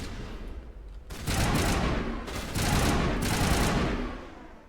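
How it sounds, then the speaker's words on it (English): Gunfire in the Mass Effect video game comes as long sustained bursts of rapid automatic shots, loud and dense, three extended volleys separated by brief gaps, with no talking. "Hey, what are you shooting at?"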